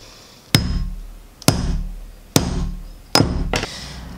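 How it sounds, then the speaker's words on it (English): Four sharp hammer strikes drive a metal snap fastener into a Cricut-made clutch bag, each impact loud and close with a short ringing decay, spaced roughly a second apart. "we're going to add the second piece of our snap fastener on"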